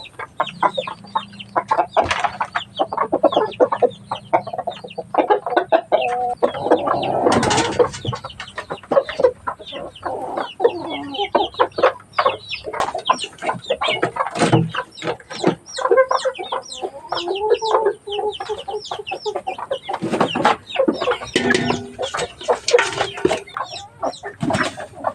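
Native chickens clucking and calling loudly at close range in a farmyard, a dense, uneven run of short clucks and squawks that continues throughout with no talk.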